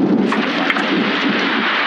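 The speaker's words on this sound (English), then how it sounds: "what a storm!" A thunderstorm in the 112 Operator emergency dispatch game, with a steady wash of heavy rain and a low rumble of thunder filling the short stretch, fairly loud and close, no voices.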